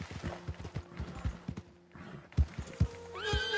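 A horse in Red Dead Online whinnies loudly near the end after a run of heavy hoofbeats thudding close by, the steps uneven as it moves and pauses.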